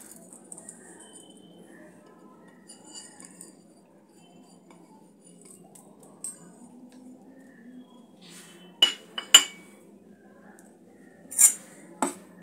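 A bowl of batter for chakli pitha, with grated ginger, whole cumin and fennel seeds, being mixed: a quiet, soft stretch of stirring, then a few sharp spoon clinks against the bowl near the end.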